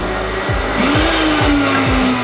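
A Berg blender motor whirs loudly and steadily, its pitch wavering slightly as a tamper pushes fruit down into the spinning contents.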